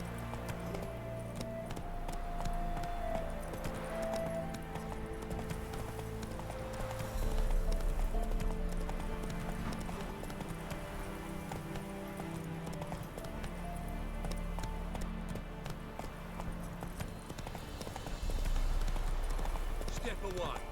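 Roach, a horse in the video game The Witcher 3, gallops with a steady rhythmic clip-clop of hooves, joined by occasional neighing and game music, while voices speak intermittently over the hoofbeats.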